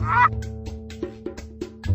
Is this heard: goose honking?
yes